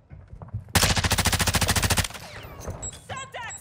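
A machine gun fires a loud, rapid sustained burst of evenly spaced shots in Call of Duty Warzone 2.0 DMZ during a clash with operators in the Koschei Complex. Quieter gunfire and sound effects follow, with faint talk.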